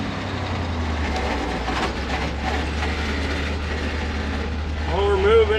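An antique tow truck being brought back to life rolls along under power with a steady low engine drone and rattling drivetrain, a voice talking over it and a brief squeal rising near the end.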